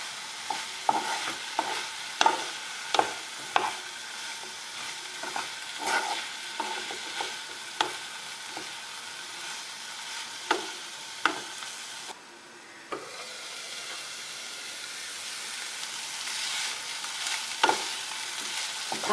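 Broccoli stir fry for Kerala-style mezhukkupuratti cooks in a pan over a medium flame with a steady low sizzle, punctuated by regular sharp scraping and tapping strokes as it is stirred.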